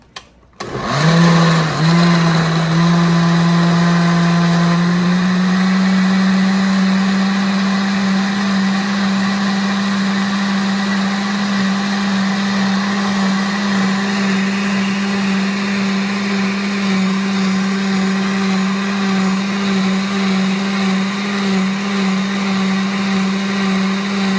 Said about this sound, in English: So we're gonna go ahead and blend this